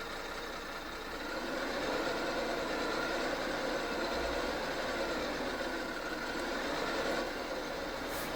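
A farm tractor engine chugs slowly along at about three miles an hour while planting soybeans, a steady low rumble holding throughout and swelling slightly louder after the first second or so.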